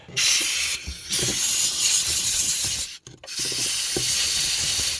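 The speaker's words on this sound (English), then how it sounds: "I loosened it up with a wire brush." A wire brush scrubs a dirty gas tank cap from a Ford Taurus or Lincoln MKS, producing loud, close, continuous raspy scrubbing strokes broken by a couple of brief pauses.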